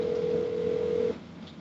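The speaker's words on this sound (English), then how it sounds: "I should ring Dennis's phone once" A telephone being rung, heard as a steady electronic tone held for about a second before cutting off abruptly, clear and alone with faint room noise after.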